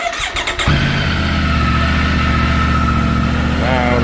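A Triumph Tiger 900 motorcycle engine cranks briefly, catches and settles into a steady, loud, close idle with a faint high whine.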